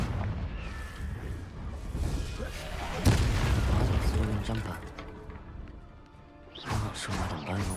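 A Confringo blasting spell in Hogwarts Legacy bursts with a loud booming explosion about a third of the way in, followed by a rumbling crash and scattered debris, under spoken voices.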